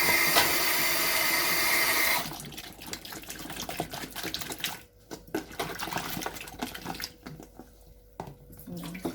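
Water from a kitchen sink tap gushes into a plastic ice cream container holding cut potato chips, a steady loud rush for about two seconds, then sloshing, swirling and clattering as the chips are rinsed.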